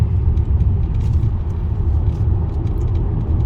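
Car cruising uphill at about 100 km/h on a highway, a steady, loud low rumble of engine and road noise filling the whole stretch with no breaks.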